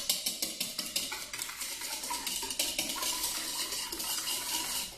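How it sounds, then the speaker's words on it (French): A metal whisk beats egg yolks and sugar by hand in a bowl for chocolate éclairs, making a rapid, regular clinking and scraping rhythm close up that quickens into a dense, continuous whir. "on va, avec un fouet, blanchir les jaunes d'œufs"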